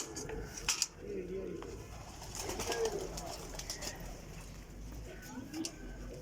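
Paired pigeons coo softly in a rooftop loft in Kotli, Azad Kashmir, their low calls faint and recurring beneath nearby talk and scattered clinks.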